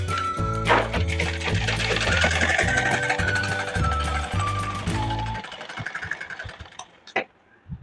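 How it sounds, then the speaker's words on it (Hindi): Sewing machine double-stitching pleats on a blouse, a loud rapid mechanical whir in repeated bursts with regular pauses between runs, then slowing and stopping into a few faint clicks and handling noises. "यहाँ हम डबल सिलाई लगा देते हैं स्ट्रॉन्ग के लिए"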